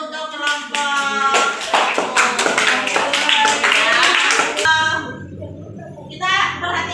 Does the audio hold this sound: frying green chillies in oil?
no